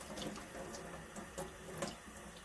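Tap water runs in a steady splashing stream into a sink, close by, while makeup brushes are rinsed, with small bright spatters over the flow.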